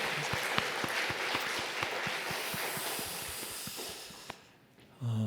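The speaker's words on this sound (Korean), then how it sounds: "우리 감사와 사랑의 박수로 같이 한번 우리 박수하겠습니다." A church congregation at a Sunday morning service applauds the choir, a faint, distant wash of clapping with regular louder claps running through it, fading out before a brief sound at the end.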